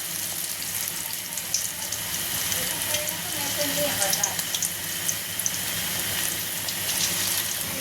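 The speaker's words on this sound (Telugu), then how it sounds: "ఇవి అయితే వేగుతున్నాయి కదా" Rolled pieces of food frying in oil in a pan, a steady crackling sizzle with sharp pops, close and continuous.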